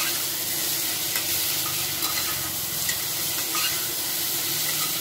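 Roasted dalia and dal simmer together with a spoonful of ghee in a pan, producing a dense, even sizzle and hiss that holds steady from start to finish.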